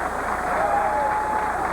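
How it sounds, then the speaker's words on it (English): An audience at a professional bowling championship applauds a bowler, a broad, steady patter of many hands with some crowd noise, heard somewhat muffled on low-quality broadcast sound, with a voice faintly underneath. "he deserves a big round of applause"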